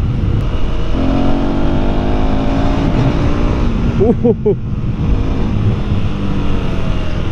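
A 2024 KTM Duke 390 motorcycle engine drones steadily up close amid wind noise while ridden, with a brief revving burst partway through.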